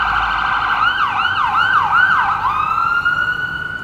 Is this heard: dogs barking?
no